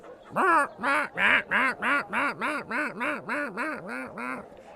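A goose honks repeatedly, about a dozen loud nasal calls in a steady rhythm, close by and alone.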